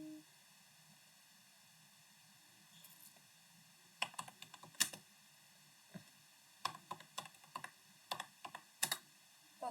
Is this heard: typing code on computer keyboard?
yes